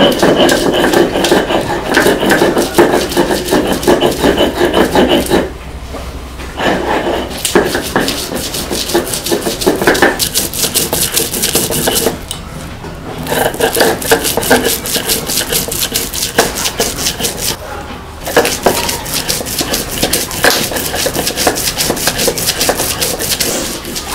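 Chilies ground into paste on a grinding stone in a village kitchen, a steady rhythmic scraping and rubbing of stone on stone, loud and close, with short pauses between strokes.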